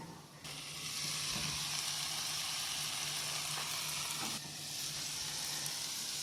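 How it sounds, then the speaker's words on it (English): Onions sizzle and fry steadily on a cast iron flat plate griddle used for smash burgers, a loud, continuous crackling hiss with a brief dip partway through and no talking. "that's just a cast iron flat plate. And we're cooking onions."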